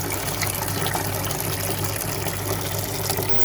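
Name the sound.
water filling a garden pond filter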